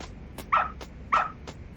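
A dog barks in the video game Lost Judgment: two sharp, close barks about half a second apart, over a low background hum.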